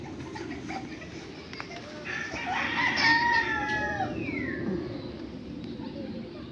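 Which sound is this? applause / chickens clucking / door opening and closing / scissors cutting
chickens clucking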